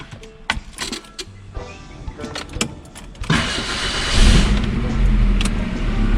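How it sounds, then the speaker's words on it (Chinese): A Suzuki Vitara being started after a cooling fan replacement: clicks and small mechanical noises at first, then an engine catching around the midpoint and settling into a loud, steady idle that lasts to the end. "现在发动看看"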